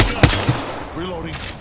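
Sharp bursts of gunfire in a squad-based battle royale shooter game: a loud crack up front, a second shot shortly after, then quieter rattling and tonal game effects.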